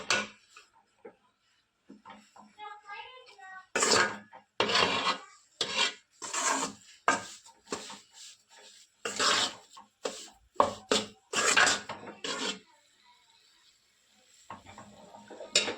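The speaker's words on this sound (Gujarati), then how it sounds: "ચાલો આપણે લોટ શેકી લઈએ" Flour being stirred and roasted in a pan for gundar paak, a repeated dry scraping rasp of the spoon against the pan in uneven strokes, close and moderately loud, with no talking.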